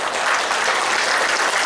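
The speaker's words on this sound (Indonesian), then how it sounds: "Tepuk tangan dong." An audience bursts into strong, dense applause at a speech event, loud and continuous clapping filling the room.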